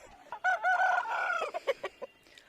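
Aseel rooster and hens on a farm, giving a burst of loud layered clucking and crowing, followed by several short separate clucks, with no talking.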